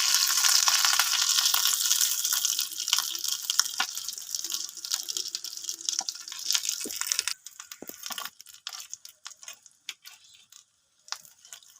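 Snacks frying in oil give a dense, hissing sizzle that suddenly drops away. Sparse crackles, clinks and drips follow as the snacks are lifted out.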